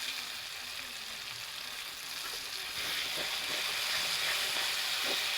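Bay leaf dropped into hot oil while cooking chicken, giving a steady broadband sizzle that grows slightly louder partway through, with faint stirring noises and no talk.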